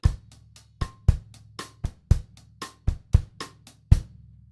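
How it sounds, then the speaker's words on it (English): Two-bar 3/2 clave bossa nova beat on a drum kit at mezzo forte, steady kick and cross-stick strikes with light cymbal ticks in a repeating syncopated pattern, close and moderate, without talk. "So the 2-bar Bossa Nova at mezzo forte sounds like this"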